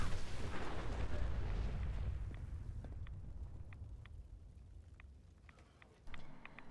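A Fallout 4 explosion opens with a heavy, deep rumbling blast that slowly fades into quiet, scattered clicks, then a short swell near the end.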